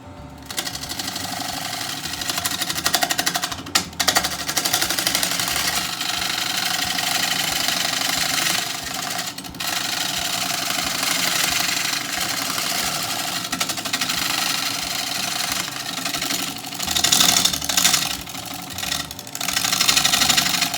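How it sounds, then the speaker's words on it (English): A carbide cutter carves a wooden bowl on a lathe, giving a steady, loud, continuous grinding whir with brief dips and rough scraping surges, close up with no talking. "I think we might try and use our carbide cutter here."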